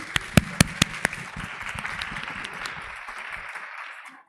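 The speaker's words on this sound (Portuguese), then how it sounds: "Agora uma salva de palmas para todos nós que participamos" Church congregation clapping at a Sunday school session, a few sharp isolated claps opening into a steady round of applause that fades out over a few seconds.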